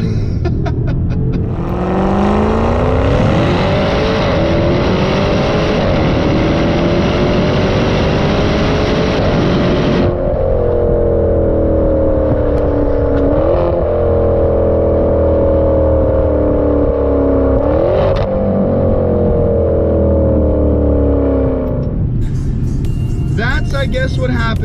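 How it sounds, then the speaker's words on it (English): A 500-horsepower rear-wheel-drive four-door car spinning its tires from a standstill, a loud, close engine roar rising and shifting in pitch over about twenty seconds, with a voice speaking over it. "when you start from an absolute standstill and you can do something like this. Tire spin."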